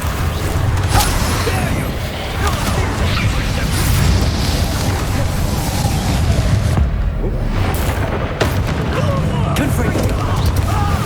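Confringo, the fiery blast spell, fires repeatedly in the fantasy game Hogwarts Legacy, with loud booming bursts and crackling impacts amid battle noise while characters shout over the fight.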